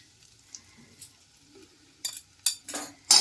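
Two spatulas stir and scrape noodles in a pan, with soft scraping that gives way to several sharp metallic clinks and rasps against the metal.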